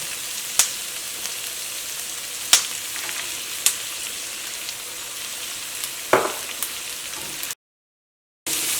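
Carrot, onion, ginger, green chili and curry leaves frying in hot oil with cumin for a vegetable curry, giving a steady close sizzle broken by occasional sharp stirring clicks, then a brief silence.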